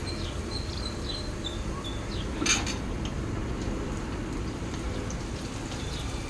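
Large pieces of onion and capsicum are stirred in a pan while making dhaba-style paneer chilli, with faint clinks of a utensil against the pan and one brief scrape near the middle over a low background hiss, with no talk.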